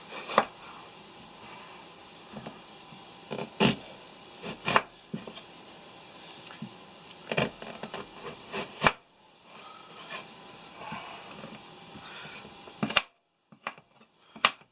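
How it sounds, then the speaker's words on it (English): A knife chopping an onion on a cutting board for corn chowder, with quiet irregular taps and scraping strokes, close and crisp in a calm kitchen, then a brief pause and a few final cuts. "cut a little flat part so the onion stays still while you're cutting it"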